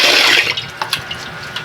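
Rice being washed by hand in water in a pot before cooking: a loud burst of sloshing, swirling water at first, then scattered small splashes and drips, close by with no talk.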